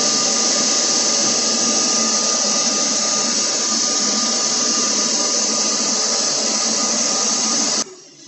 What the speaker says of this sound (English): So let's go ahead and turn on the vacuum.